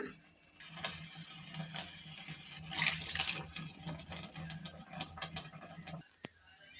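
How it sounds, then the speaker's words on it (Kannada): Ground masala water is poured into a pan for an okra gojju, a soft splashing and trickling at close range with light clinks of utensils, fading before a brief knock at the end. "ಇವಾಗ ಇದಕ್ಕೇ ಮಸಾಲೆ ನೀರನ್ನು ಹಾಕೊಳ್ಳೋಣ."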